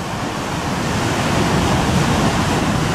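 Ocean waves at Peggy's Cove roar as a loud, continuous wash of surf that stays steady and unbroken throughout.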